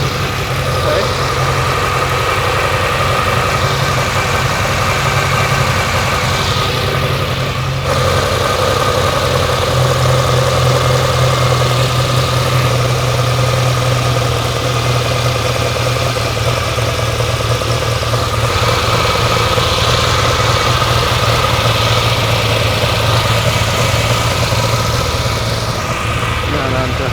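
A 1964 Ferrari 250 Lusso engine with Weber carburetors idles steadily and loudly, a constant close-up rumble with slight shifts in pitch, and a voice speaks briefly over it.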